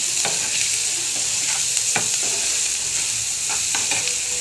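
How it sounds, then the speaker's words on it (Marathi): Cluster beans frying in a pan with chili, tomato, salt and turmeric give a steady loud sizzle, with repeated scraping stir strokes of a spoon throughout. "आता आपल्याला ह्यामध्ये गवार टाकून घ्यायचा आहे असं छानशी भाजून घ्यायची परत एकदा"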